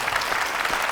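Brief, dense clapping from a Korean church congregation at Hallelujah Church, a loud close burst of many hands with no speech over it.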